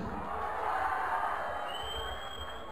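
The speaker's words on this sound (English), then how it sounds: "Let's have a cheer for the boxers." Crowd cheering and whooping for the boxers at a white collar boxing event in Dudley, a sustained moderate roar of voices from a hall audience with no clear single voice on top.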